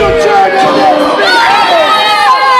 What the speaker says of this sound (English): This crowd is very lively and they are not happy whatsoever that Hannibal has won this match